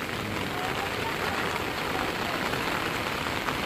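Heavy rain falls steadily near the overflowing Moj river at Upleta, a dense, even hiss that holds at a constant level throughout, close and unbroken, with no clear voices.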